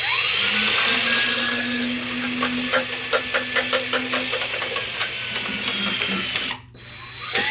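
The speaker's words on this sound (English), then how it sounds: "Let's self-tap this thing through here. Got my drill with a square tip and an extension." A power drill with a square tip and extension whirs steadily, then a quick run of rhythmic clicking pulses as it drives a self-tapping screw into an Electrolux mower, ending with a brief cutoff.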